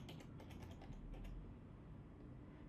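Quick soft keystrokes on a Mac keyboard as a password is typed, a rapid run of light taps in the first second or so, faint and close.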